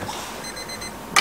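A toy alarm clock rings with a thin, repetitive electronic beeping pattern, fairly faint and close, followed by a sharp brief clatter at the end.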